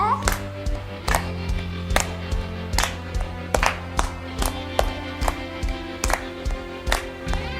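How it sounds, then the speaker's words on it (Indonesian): Children clap hands together in rhythm during a kids' worship service, about a dozen sharp, regularly spaced claps heard over sustained music and singing. "Kita tepuk tangan sama-sama ya"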